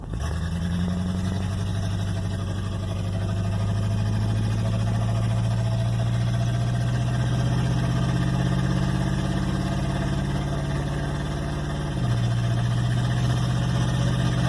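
A 1958 Plymouth engine drones steadily and loudly while the car drives, with a deep, continuous rumble that shifts to a lower pitch near the end as the speed changes.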